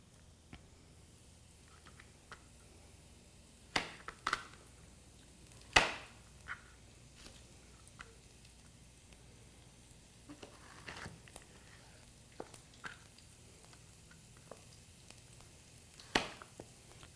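Knife chopping summer squash into roughly inch-sized pieces, a sparse series of sharp, close cuts at irregular intervals over a quiet room background, with no talking.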